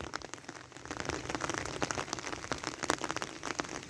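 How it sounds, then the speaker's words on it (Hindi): Continuous heavy rain pours during a storm on a road, a dense, steady hiss of drops drumming on surfaces with no break, loud and close throughout. "बारिश की आवाज़ भी आप लोगों को आ रही होगी जी लगातार।"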